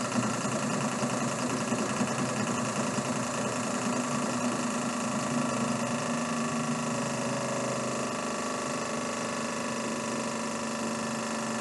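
A compound electric motor running at about 1500 RPM under a four-newton load, giving a steady, close mechanical hum and whir that holds constant with no pauses.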